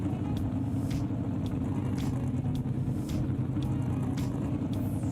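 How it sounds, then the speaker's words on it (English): Aston Martin V8 engine in a racing video game, a steady low burbling idle rumble held close and loud with faint periodic clicks above. "can't beat listening to a burbling V8"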